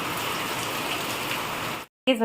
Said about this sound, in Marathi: संध्याकाळ होत आहे तसं तसं तर जोरा जोरात पाऊस येतोय